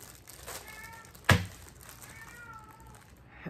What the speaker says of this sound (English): He meows like that all the time.